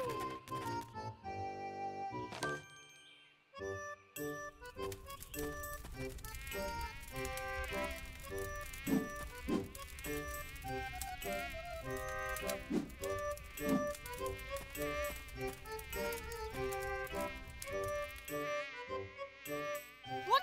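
Cartoon mosquitoes whine and buzz in the animated Boonie Cubs series, a dense high-pitched drone with many layered tones that runs steadily for about twenty seconds under busy sound effects, with no talk.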